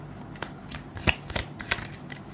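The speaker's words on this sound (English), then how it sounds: "Okay, one more card." Tarot cards being shuffled by hand, a few quick riffling flutters and soft slaps against each other, close and fairly quiet, with no voices.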